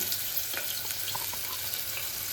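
Onions frying in a pan for veg biryani, a steady soft sizzle and crackle that carries on without a break, with a few faint clinks of stirring over it and no talking.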